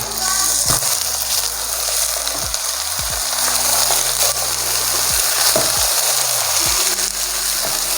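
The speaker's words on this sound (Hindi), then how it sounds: "मैं इसके अंदर बीफ ऐड कर रहा हूँ" Beef chunks dropped into a pot of onions fried to light brown, setting off a steady, loud frying sizzle throughout with faint stirring and no talk.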